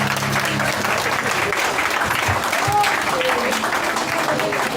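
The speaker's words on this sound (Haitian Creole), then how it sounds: "Un applaudissement pour Jésus." Steady applause from a gathered church crowd praising Jesus, dense clapping throughout at an even, fairly loud level with a few brief tones above it.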